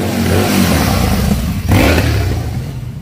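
Harley-Davidson motorcycle exhaust revving loud and close, a deep throbbing roar that dips briefly and surges again before easing off.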